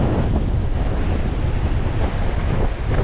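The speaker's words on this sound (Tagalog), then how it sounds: "medyo malakas po ang hangin na ngayon" Strong wind buffets the microphone in a constant loud rumbling roar, with no voices.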